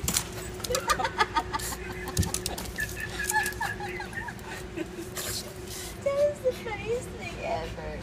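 Chickens clucking and squawking in agitation as a shih tzu dog chases them outdoors, a busy run of close, irregular clucks and cries with someone talking over them.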